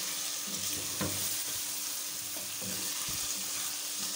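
Tomatoes frying in a pan for aloo qeema, a steady close hissing sizzle with a few soft scrapes and bubbling pops, no speech.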